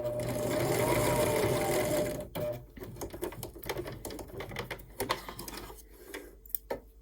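A sewing machine stitches a seam on a micro mini Christmas tree quilt with a fast, close, steady whirr for about two seconds, then stops, leaving scattered clicks and fabric handling sounds.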